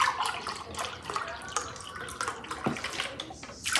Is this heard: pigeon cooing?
no